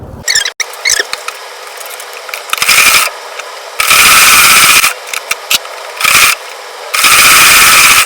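A sewing machine stitches the back yoke of an Ankara jumpsuit to the bodice, running in loud bursts of rapid mechanical whirring and clatter with short pauses between runs.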